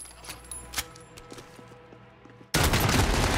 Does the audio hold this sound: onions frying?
no